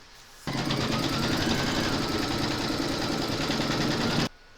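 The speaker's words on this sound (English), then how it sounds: "you're going to stitch round number 1, and that's going to give you a placement outline for your batting" A home embroidery machine stitches a placement outline for a coaster, a steady, rapid mechanical whirr and needle chatter that starts abruptly, runs evenly for about four seconds, then stops.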